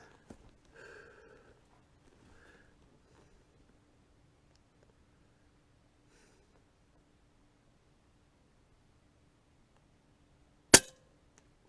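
An AirMaks Arms Caiman X air rifle fires at a range target, a single sharp crack near the end after a long near-silent stretch with faint rustling.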